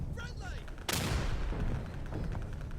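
Artillery fire in a video game: one heavy, sudden blast about a second in, with a long rumbling tail, after faint chatter and other game sounds.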